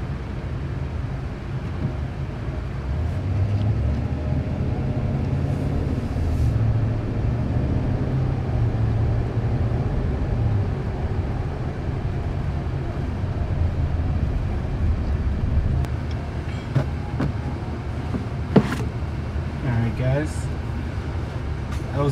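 A 2020 Dodge Ram 1500 Bighorn with a 5.7-liter Hemi V8 running, a smooth, steady low rumble that holds constant throughout, with a few faint clicks and taps near the end.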